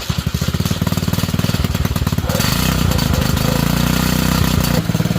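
Engine with a rattly exhaust, blipped from a pulsing idle up into a loud, harsh rev that holds steady before dropping back, recorded close by.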